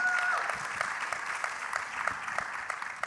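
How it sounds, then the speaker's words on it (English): Steady audience applause for a panel at a newspaper publishers' convention, filling the room throughout, a dense patter of many hands clapping at moderate loudness. "Give them another round of applause, if you would, please."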